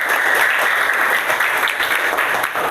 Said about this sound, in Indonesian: Bagus, tepuk tangan anak-anak.